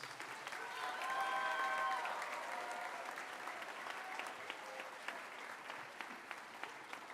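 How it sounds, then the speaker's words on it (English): Audience applause at a high school underclassmen awards ceremony, a steady wash of clapping that swells early, then thins to scattered claps with faint voices underneath. "let's give them a round of applause"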